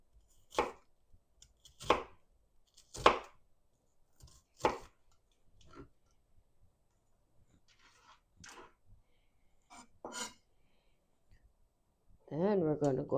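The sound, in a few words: knife chopping onion into smaller pieces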